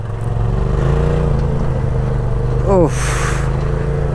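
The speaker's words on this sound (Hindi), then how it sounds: "क्या साउंड है इंजन का।" A monster truck's engine near Changu Lake on a high mountain road holds a deep, steady rumble that swells briefly, close by, with a voice exclaiming over it.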